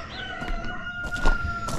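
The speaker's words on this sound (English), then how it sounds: "I'm coming, chickens." Chickens on a homestead, with a rooster crowing amid clucking hens, sounding close and moderately loud against outdoor background noise.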